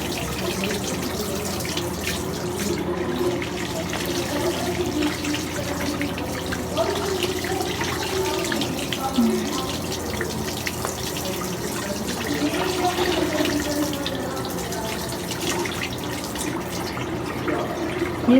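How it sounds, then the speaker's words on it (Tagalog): Tap water runs steadily over hands and arms rinsing off antimicrobial soap during a surgical hand scrub at a sink, a continuous close splashing stream lasting throughout with no talk. "Rinse the surgical brush and reapply antimicrobial soap."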